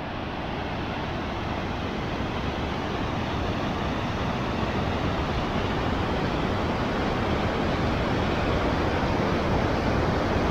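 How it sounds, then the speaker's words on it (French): The Muzelle mountain torrent near Vénosc in the Isère Alps, rushing water as a dense, even roar that holds steady and grows slightly louder throughout, with no voices. "Torrent de la Muselle."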